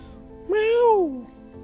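A voices a single drawn-out meow in imitation of a cat for a cat card in a Magic Arena game, close to the microphone and rising then falling over about a second.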